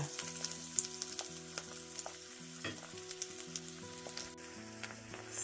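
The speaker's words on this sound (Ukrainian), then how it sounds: "Смажимо його на середньому вогні." Zucchini pancake batter sizzles and crackles steadily in an oiled pan over medium heat, a close, continuous frying hiss with soft pops, while gentle music plays underneath.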